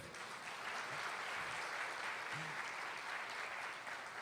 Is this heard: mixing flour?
no